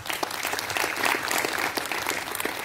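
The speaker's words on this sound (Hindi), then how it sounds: "तालियां तो बनती हैं।" Lively audience applause at an International Women's Day event, many hands clapping close and loud with distinct individual claps audible in the steady crowd sound.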